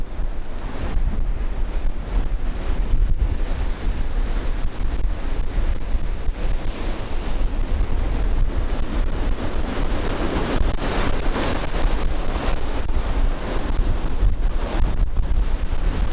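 Ocean waves wash steadily onto a Hawaii beach, a continuous loud surf roar with wind buffeting the microphone throughout and no voices.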